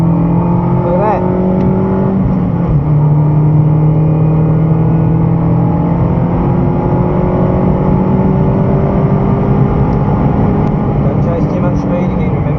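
A race car engine drones loud and close around the Broadford track, its pitch rising and shifting through gears as it accelerates out of a corner, with an instructor talking throughout the constant in-car roar.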